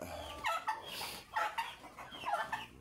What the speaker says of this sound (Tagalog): Ang pabo ko yan ang pabo.